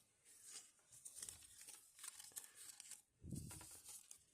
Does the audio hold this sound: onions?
no